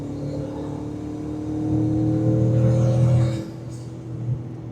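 A twin-turbo Ford F-150 Raptor with a swapped 800 whp engine accelerates hard, its drone rising in pitch, then easing off as it shifts gear before pulling again, heard from inside or close by.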